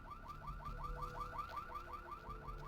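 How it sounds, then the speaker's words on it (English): A car alarm wails in a rapid, repeating rising chirp pattern in the video game Vampire the Masquerade Bloodlines, steady and moderately loud over low background hum. "Someone could please shut that fucking alarm off."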